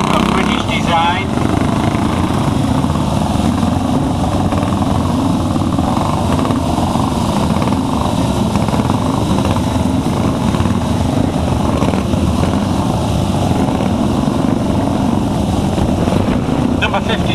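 A 1936 Norton Model 18 classic British motorcycle at the Saltburn Hillclimb 2012 roars steadily and loudly for the whole stretch, with wind buffeting and a commentator talking over the engine.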